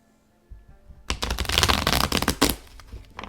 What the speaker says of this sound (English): Now we have this Visconti Tarot that I am going to pull a couple clarifier cards just on the reading